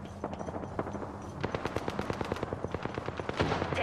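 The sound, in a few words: gunfire in video game Apex Legends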